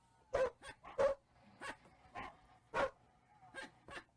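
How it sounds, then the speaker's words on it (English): A dog barking in a series of short, faint yips and barks at an uneven rhythm, some close together and others spaced apart, heard from a distance. "that's a dog barking."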